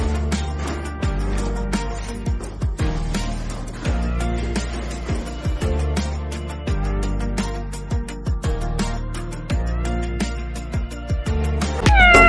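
A cat meows repeatedly in a home, its cries loud and close over a steady, rhythmic background.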